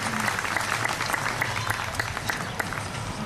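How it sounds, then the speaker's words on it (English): Audience clapping at a live high-society show, a steady dense wash of applause from a crowd, moderately loud and continuous with scattered sharper claps and faint voices mixed in. "You've clapped when you should have clapped"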